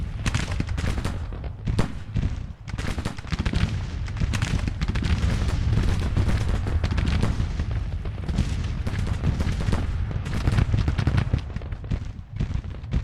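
Heavy Civil War battle in Grand Tactician The Civil War: rolling musket volleys and booming artillery fire, loud and unbroken for the whole stretch, with dense overlapping crackle and deep thuds.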